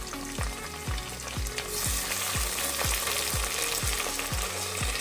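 Tomato fries in a hot pan for a vegetable biryani, a constant loud sizzle broken by a regular knock of a spoon stirring against the pan about twice a second, with no talking.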